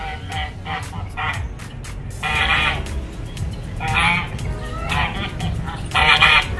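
Geese at Lake Arrowhead Village, California, honk in several loud bursts over a steady outdoor background, fairly near, with no talking.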